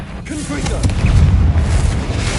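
Confringo blasting spell in Hogwarts Legacy, one loud, deep booming explosion that rolls out over about two seconds, with a voice briefly heard at the start.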